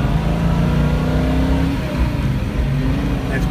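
A 1970 Ford Mustang Boss 302 rumbles from inside the car on a ride, its engine note rising under acceleration, loud and continuous.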